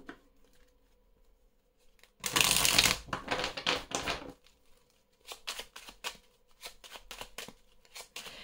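A deck of Belline oracle cards is shuffled by hand, a burst of dense riffling followed by several shorter, crisp flurries of card flicks, close and fairly quiet between bursts, with no talking.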